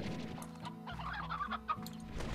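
Game chickens cluck on a farm in Slime Rancher, several short squawky clucks rising over a steady background music bed, fairly close and moderately loud.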